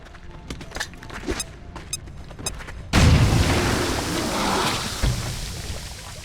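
A grenade detonates in XCOM: Chimera Squad, the game explosion bursting in loud and close with a deep boom that rolls on as a rumbling tail after a stretch of quieter game ambience and clicks.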